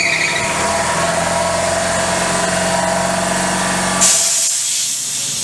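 An air compressor runs with a loud, steady mechanical drone and hiss in a workshop near a BM Enfield 350 trials motorcycle, then cuts out near the end, leaving a fading high hiss.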